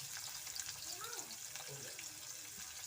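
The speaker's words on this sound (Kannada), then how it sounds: "ಈರುಳ್ಳಿ ಚೆನ್ನಾಗಿ ಫ್ರೈ ಮಾಡ್ಕೊಳ್ಳೋಣ." Onion and a couple of green chillies fry in hot oil with a steady, even crackle that stays at one level throughout, while a voice murmurs briefly over it.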